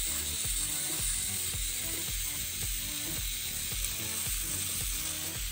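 A woman shaving her face with a razor, following the jawline and around the nose, as a close, steady rasping scrape repeats in quick short strokes over a constant hiss, with no talk.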